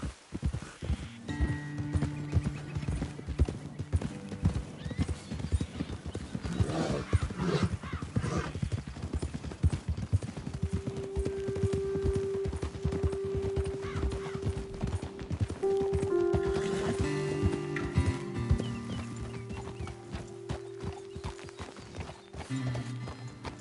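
Steady clip-clop of horse hooves walking at an even pace in the video game Red Dead Redemption 2, with a horse whinnying near the end and a low ambient bed underneath.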